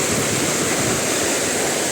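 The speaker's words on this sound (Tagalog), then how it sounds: "lumalakas yung ulan dito sa amin" Dense, steady hiss of heavy rain mixed with roaring wind during a storm in Bataan, Philippines, loud and continuous, with no voices.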